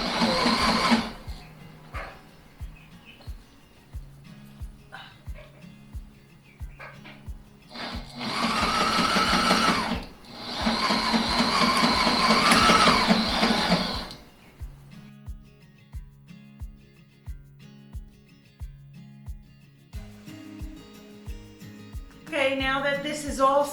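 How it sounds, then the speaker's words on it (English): Sewing machine stitching clear plastic into a boat window, running in steady rhythmic bursts of rapid needle strokes with pauses between, including a reverse stitch, close and fairly loud with brief talk in the gaps. "I have my foot pedal on the ground and I'm just going to take my time with it. Do a reverse stitch."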